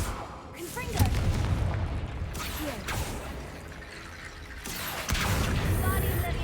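Confringo fire spell explosions in the game Hogwarts Legacy, several booming bursts with a mechanical rattle, close and loud over a steady game soundscape.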